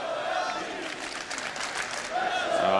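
Large arena crowd at a CS:GO Major grand final roaring and cheering continuously, a dense, loud wash of voices and applause with a commentator speaking over it.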